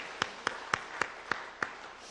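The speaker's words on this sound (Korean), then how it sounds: "암송하게 하신 하나님께 감사의 박수를 올려드립시다" A congregation at a Sunday morning church service claps in thanks: six sharp, evenly spaced claps in a steady rhythm, with near silence between them.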